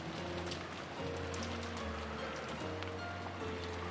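Steady rain with a low rumbling wind bed forms a continuous stormy ambience in the visual novel Umineko, with scattered drip-like taps over an even wash of noise.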